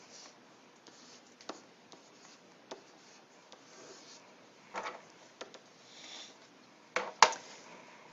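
Writing by hand with pen or pencil on paper, with quiet scratchy strokes and soft taps in short, irregular bursts, close up with no talking.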